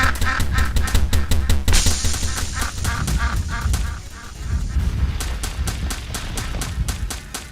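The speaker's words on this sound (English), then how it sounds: "So you want to watch out, because the ducks are running around." Alien ducks in a space-world stage of a party video game honk repeatedly in quick, rhythmic bursts over busy game music and effects, loud and close, with a short bright tone partway through.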